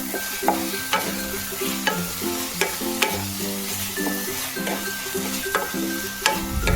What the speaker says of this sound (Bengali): একইভাবে নেড়ে নেড়ে এটার গায়ে একটু ছোপাতে হবে।